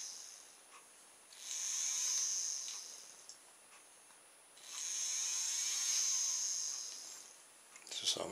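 The small rotor of a faucet light, with its back cover off, spins in two separate bursts of a thin, high whirring whine that rises, holds for about two seconds and fades, quiet and close.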